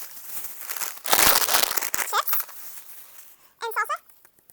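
Close, crisp crinkling and rustling as Mexican takeout packaging is opened, with bursts of plastic and paper crackle and a voice speaking briefly between them.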